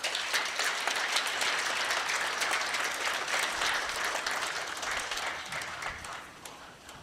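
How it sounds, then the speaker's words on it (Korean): Seminar audience applauding steadily at a Korean Holiness Newspaper seminar, a dense, even wash of many hands clapping that holds for several seconds before tapering off slightly at the end. "박수하겠습니다"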